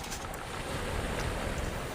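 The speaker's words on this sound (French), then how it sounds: "Tu entends le remous des vagues qui fait flou flou flou flou flou flou" Waves wash and churn at a seashore, with a broad, steady rush of surf and some wind buffeting, loud and continuous with no voices.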